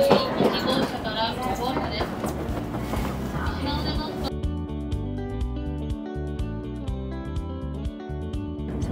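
A Japanese Shinkansen bullet train pulls in and runs along the platform, a loud rushing roar giving way to steady rhythmic clicking and rumble, with people talking over it at first.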